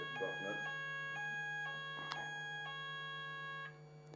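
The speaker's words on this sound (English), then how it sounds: "That's a fire alarm test." A fire alarm test sounds as a steady electronic tone with repeated beeps in the background of a fire and rescue authority meeting room, faint and continuous under the room's ambience.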